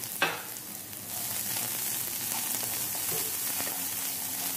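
Chopped carrot and half a cup of sweet corn fry in a pan with a steady, close sizzle, and a spoon stirs through them now and then.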